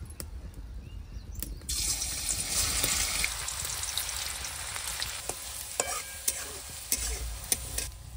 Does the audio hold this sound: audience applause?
no